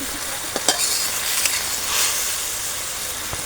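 Water lily stems fry in oil with a splash of water in a pan. A steady sizzle and hiss runs throughout, broken by a few sharp scrapes and clinks from stirring.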